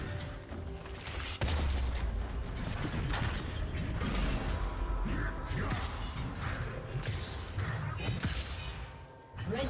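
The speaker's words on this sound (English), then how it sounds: "Red team's turret has been destroyed." A turret being destroyed in League of Legends: dense crunching, creaking mechanical impacts and booming crashes that run continuously for several seconds, loud and busy throughout.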